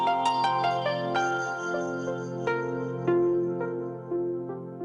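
A phone's melodic ringtone plays loud and close, a bright tinkling electronic tune of falling and rising notes with sustained tones, heard alone without speech.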